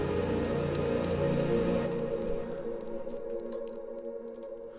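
Dark ambient synth notes drone low and sustained, bathed in heavy reverb, with a thin high tone floating above, slowly thinning and fading out toward the end.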